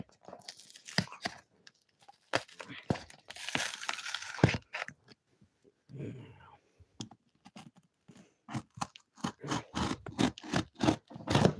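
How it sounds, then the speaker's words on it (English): A cardboard box being cut open during the unboxing of a Sony Beta Hi-Fi unit, heard as close, irregular crunching and scraping strokes in bursts, growing into a rapid run of sharp cuts toward the end. "Might have to cut into the box here."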